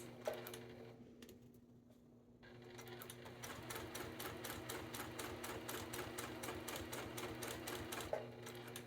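A sewing machine stitches curves on a satin eye mask, its needle running in a fast even rattle after a brief pause, fairly faint and close.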